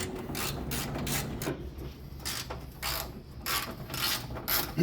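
Ratchet wrench backing out 10 mm bolts from a Toyota FJ Cruiser fender during a TRD fender install, a steady run of close, fast clicking pawl bursts repeating in short rhythmic pulls.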